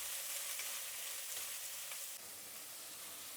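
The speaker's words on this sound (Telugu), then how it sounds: "ఇప్పుడు ఎర్రగడ్డలు బాగా వేయించుకుందాము." Onions fry in a pan, giving a steady, dense crackling sizzle that stays loud and even throughout, with no voices over it.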